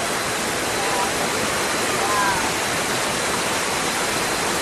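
Na Mueang waterfall on Koh Samui roars as a constant, dense rush of falling water in heavy rain, loud and unbroken from start to finish.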